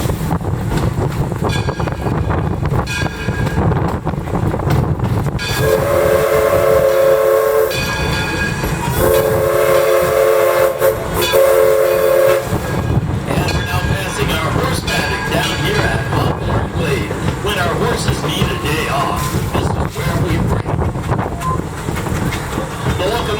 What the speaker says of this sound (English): At the head of our train today is our Thomas A. Edison. It's a coal-fired steam engine